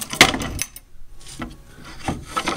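A wooden latch on a stage set slides into place with short scraping rubs of wood on wood, a few separate close strokes under light ambient noise.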